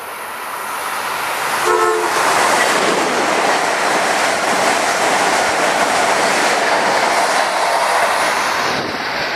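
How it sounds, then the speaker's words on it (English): A train rolls up to a station platform with a loud, steady rumble of wheels on rail and a brief horn note early on, close by and drowning out other sounds. "Train approaching. Please remain behind yellow line."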